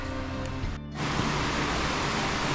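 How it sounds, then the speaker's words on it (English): A waterfall on a mountain tour outside Chiang Mai, Thailand, roars as a steady broadband wash of falling water, loud and close, briefly dipping before the rush resumes at full strength. "But here we are now at the waterfall."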